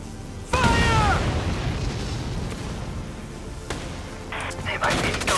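Soldiers open fire in the tactical game Valkyria Chronicles 4: a loud, close volley of overlapping gunshots and booms that settles into sustained battle noise, with further sharp bursts toward the end.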